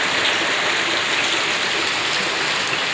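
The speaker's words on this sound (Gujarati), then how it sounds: "આ બાજુ વરસાદ ચાલુ છે આજે," Steady rain falling in a village during the Gujarat monsoon season, a dense, even hiss of drops spread across the clip with no break and no voices.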